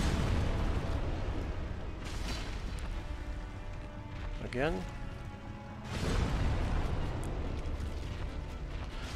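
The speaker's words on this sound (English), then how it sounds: "Don't underestimate the radius of his explosions." Booming explosions from an enemy in Dark Souls Remastered, two heavy blasts several seconds apart with a brief rising whoosh between, mixed with game sounds while a person speaks briefly.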